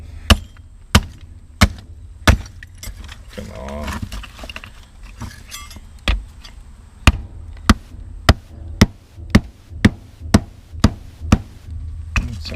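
A hammer strikes the hollow steel bed of an old truck repeatedly, sharp evenly spaced bangs ringing out, with a short burst of speech partway through.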